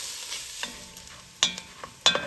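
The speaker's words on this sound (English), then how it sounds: "In my pot that I have set over a medium-high heat, I'm gonna start by adding in my bacon." Bacon goes into a pot over medium-high heat, giving a soft sizzle broken by several sharp clinks and scrapes from stirring, close and without talk.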